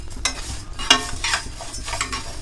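Mung dal fries in a pan while a spoon stirs it, giving a short run of close scraping strokes over a soft sizzle, with no voices.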